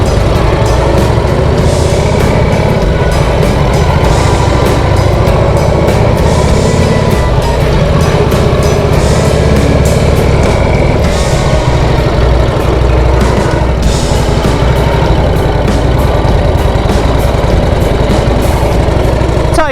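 A 1968 Harley-Davidson police trike engine runs on without a break, loud and close, a dense low rumble with a constant rapid rhythmic chug over twenty seconds and no voices.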